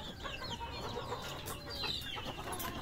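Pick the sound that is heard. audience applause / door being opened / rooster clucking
rooster clucking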